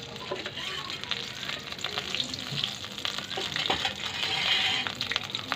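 Steady crackling sizzle of fennel seeds frying in hot oil, close and continuous, with brighter pops and spits flaring up now and then.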